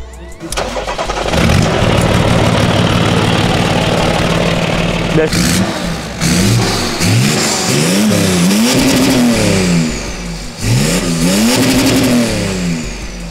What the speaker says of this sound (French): je te propose de démarrer la voiture. Ouais. Pour qu'on écoute la petite sonorité de ce 6 cylindres diesel.